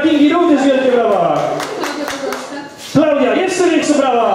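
An audience claps through a charity fundraising event in Kcynia, a steady patter of hands running under loud, continuous talk from a presenter on a microphone.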